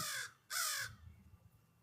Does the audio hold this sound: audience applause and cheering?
no